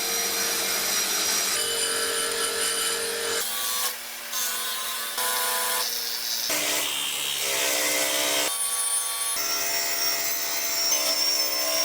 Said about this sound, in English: The clutch fluid reservoir was separated from its mount and the rust removed on the bench grinder